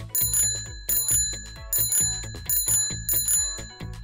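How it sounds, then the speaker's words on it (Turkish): A bicycle bell rings in repeated bright double dings, about five quick bursts in steady rhythm, clear and close with nothing else heard. "Evet, zilin sesini duydum."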